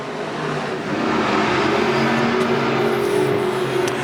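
IMCA Modified race cars roar around the dirt oval at USA Raceway during a heat race, a dense, loud, continuous engine drone with revving swells and no talk.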